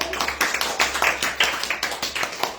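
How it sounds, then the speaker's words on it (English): A small audience at a girls' academy graduation ceremony gives a round of applause, a loud, close patter of individual claps with distinct sharp hits running steadily through. "Round of applause."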